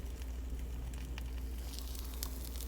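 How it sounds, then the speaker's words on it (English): Batter sizzles and hisses steadily inside a closed Dash mini waffle maker, a soft continuous frying crackle with a low hum beneath and no voices. "we're just putting our waffle mix on our waffle maker, the mini dash"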